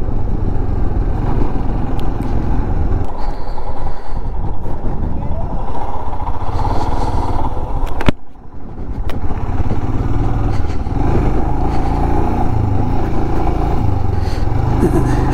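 A motorcycle rides along a rough road toward Rishav, its engine drone loud and close throughout with wind and rattling, briefly dipping midway, while someone talks over it.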